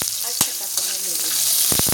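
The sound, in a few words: fish adobo aromatics frying and being stirred in a pan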